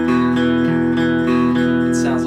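A single unmuted guitar note on a strummed acoustic-style guitar, played open so it rings and sustains with rich overtones for over two seconds, close and fairly loud, with a brief string scrape near the end.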